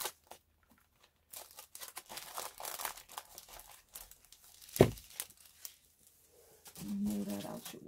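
Paper and plastic crinkle and rustle in bursts as a happy mail package with stickers from Shine Sticker Studio is handled, capped by one sharp crunch near the middle, with a faint voice murmuring toward the end.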